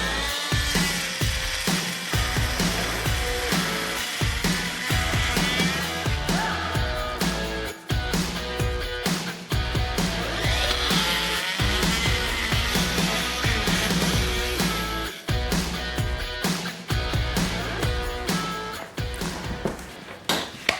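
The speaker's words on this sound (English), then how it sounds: "for that I'm going to use a 35mm metal buster blade" Multi-tool fitted with a 35mm carbide-tipped metal buster blade cutting through copper pipe, a loud continuous rattling buzz with short stops and restarts, close and alone.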